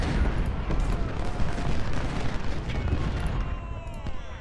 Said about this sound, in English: there goes the artillery